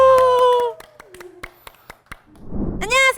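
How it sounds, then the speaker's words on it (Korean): At a children's church service, a few children and teachers clap in sparse, scattered single claps between stretches of a voice speaking and exclaiming. "하나님께 영광의 박수 올려드리겠습니다"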